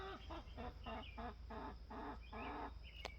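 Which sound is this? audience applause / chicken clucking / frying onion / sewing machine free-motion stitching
chicken clucking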